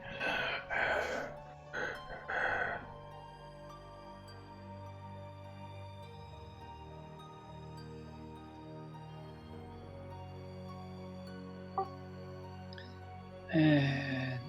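Low, droning breaths hang under a faint sustained hum during a Dungeons and Dragons session, with a few short gasping sounds at the start and a sharper breathy burst near the end.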